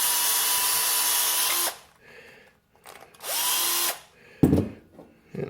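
A power drill with a stepper bit drills into a bulkhead fitting for a copper cube antenna build, whining steadily in two long bursts separated by a short pause, then a brief clatter, close up.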